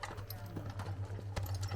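Farm horses walking, their hooves clip-clopping in a steady uneven rhythm close by, with a low engine-like hum underneath and a person talking over it.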